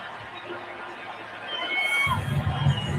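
Baseball stadium crowd at a Cardinals–Cubs game, with a murmuring hubbub that swells into loud, sustained cheering about two-thirds of the way through, right after a game-tying base hit.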